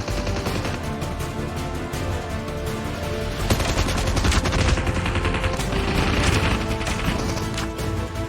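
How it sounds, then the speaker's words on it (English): Sustained gunfire from players in a Call of Duty Mobile battle royale match, a dense continuous rattle of automatic weapons with overlapping shots and impacts that grows louder midway and keeps going throughout. "Now, these guys are shooting to someone in there."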